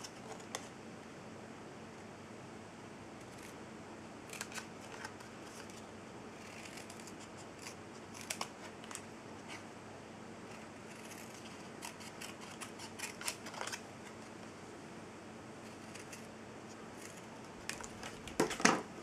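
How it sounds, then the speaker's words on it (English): Paper snips cut stamped cardstock close to its printed border with a long run of small, close, quiet snipping clicks at an uneven pace, with brief pauses between cuts. "And then I'm going to cut that out with my paper snips."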